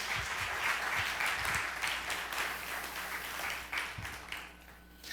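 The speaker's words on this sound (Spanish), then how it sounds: "Si va a aplaudir, apláudale al Señor bien." Church congregation applauding in a sanctuary, a broad wash of clapping that swells then gradually thins and fades toward the end, heard at moderate distance with a few low thumps underneath.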